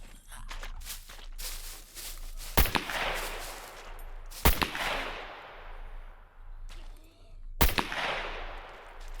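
An MP5 set to single fire in the game SCUM fires three loud, sharp, separate shots, each followed by a long echoing tail, with softer footsteps and handling sounds between them.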